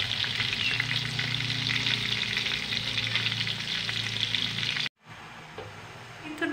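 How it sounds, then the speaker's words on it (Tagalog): Steady bubbling and hissing of water at a rolling boil in a pot, continuous and fairly loud, with a brief cut and softer bubbling near the end. "kumukulo na yung tubig sa ating kaserola"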